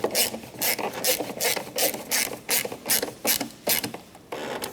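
Ratchet wrench snugging the two screws of a third brake light on a 1997-2003 Ford F-150, a rapid, steady run of close, loud clicking strokes filling the whole stretch.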